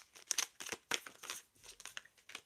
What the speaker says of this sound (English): So I'm just like trying to shuffle it really slow.